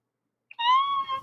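A cat gives a single short meow, clear and close, rising and then falling, after a moment of silence.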